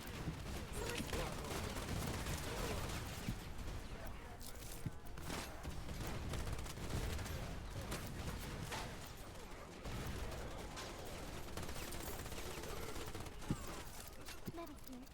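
Constant gunfire from a Wild Assault game battle, dense overlapping bursts and rapid automatic fire running loud and unbroken throughout, with a few sharper cracks standing out.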